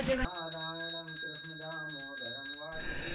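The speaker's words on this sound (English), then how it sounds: "The ringing bell awakens the divine and clears negative energy" A bell rings steadily at a Hindu evening arati ceremony on the Ganges, with a sustained metallic ringing tone and a steady rhythm of strikes heard over speech and a busy crowd.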